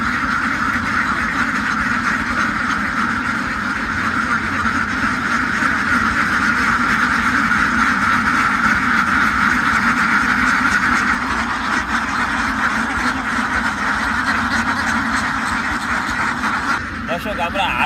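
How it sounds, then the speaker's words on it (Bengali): Thousands of ducks quacking together on a duck farm, a dense, continuous loud chorus with a voice speaking over it. "আল্লাহর রহমতে এখন আমার হাজার হাজার হাঁস।"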